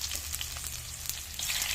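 Garlic and onion fry steadily in a pan over a wood fire for eggplant adobo, giving a dense, continuous sizzle close up with brief crackling pops scattered through it.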